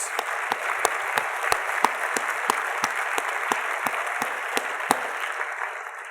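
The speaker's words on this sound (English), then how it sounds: "can we get a round of applause in advance for our wonderful RCs, those volunteers?" A conference audience gives a round of applause for volunteer leaders, with the claps sparse and distinct at first, then thickening into steady clapping that tapers off. No one speaks.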